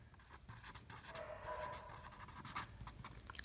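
Pen scratching across paper while jotting down calendar reasoning sums, soft irregular strokes and taps up close, faint with room noise and no speech.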